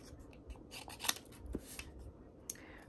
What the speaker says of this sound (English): let me get my paper snips so we can go ahead and cut this out here.